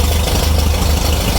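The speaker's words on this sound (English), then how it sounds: "Fork truck started." Forklift engine running at a steady idle on a farm, a continuous loud low rumble with slight vibration throughout, no voices.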